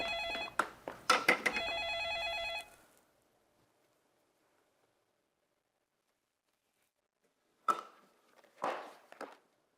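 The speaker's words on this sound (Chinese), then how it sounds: "应是伫遮，我去接电话。" A household telephone rings loudly for about two and a half seconds in a bright, harmonic burst, then falls silent before a few short knocks and clatters follow.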